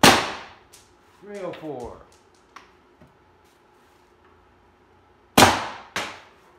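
Air gun fitted with an FSV regulator firing: one sharp, loud shot at the start and two more close together near the end, with a brief spoken word and quiet handling noise in between.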